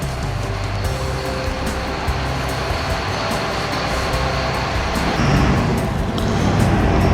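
A big lorry pulls up outside an autumn show hall, giving a loud, continuous low engine rumble and broadband road noise that fills the whole stretch and grows slightly heavier near the end.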